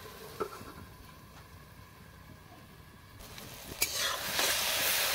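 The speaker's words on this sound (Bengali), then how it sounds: "এখন ভালোভাবে নাড়াচাড়া করে দেব।" Fish curry stirred in a frying pan: scraping spatula strokes over a steady sizzle that turns louder and hissier toward the end, close and alone.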